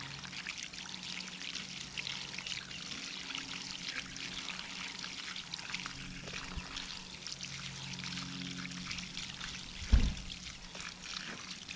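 Freshly harvested sweet potatoes are rinsed under a steady flow of water that pours and trickles continuously at a moderate, even level, with a single brief knock near the end and no talking.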